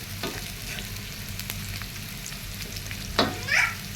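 Garlic and onion frying in oil for a shrimp and jute leaf stir-fry, a steady close sizzle with occasional stirring scrapes and a brief louder clatter near the end.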